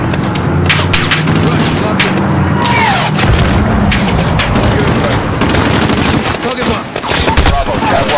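Missile strike explosions and rapid gunfire from the Call of Duty: Modern Warfare video game, a dense, continuous barrage of booms and bursts with radio chatter mixed in throughout.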